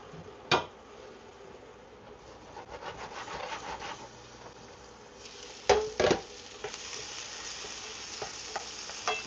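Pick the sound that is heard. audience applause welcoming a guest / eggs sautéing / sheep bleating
eggs sautéing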